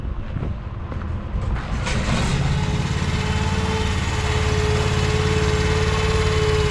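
A Böcher Junior 77 incline material hoist's small engine starts up and settles into a steady, loud droning idle with a faint tonal whine.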